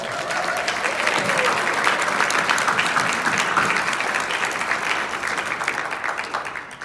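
Dense, loud applause from a gathered audience at a Home Front Heroes Day program, steady clapping sustained for several seconds before gradually tapering off.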